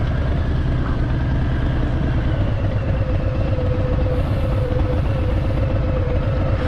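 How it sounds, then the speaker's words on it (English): A Harley-Davidson motorcycle engine in New York City traffic gives a steady low loping rumble with a clattery throb, close and continuous, with no voices. "I just want to bring out the original sound, the engine sound"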